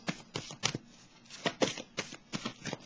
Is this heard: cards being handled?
yes